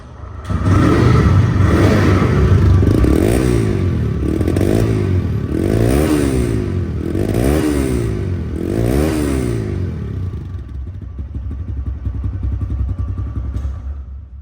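A second-hand TVS Raider motorcycle with about 4,000 km on it runs loud and close, revving up and down in a steady series of bursts before dropping back to a rough idle.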